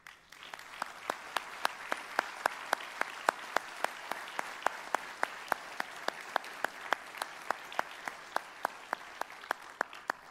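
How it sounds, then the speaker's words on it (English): A ceremony audience at a sheriff's office awards event applauds honored members, steady sustained clapping from a sizable crowd with sharp rhythmic claps standing out, loud and continuous with no talking. "Will those featured please stand and receive a round of applause?"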